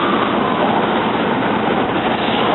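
A SEPTA R2 Warminster commuter train pulls into 30th Street station, a continuous loud, broadband rumble and roar of rolling rail cars with no pauses and no voices.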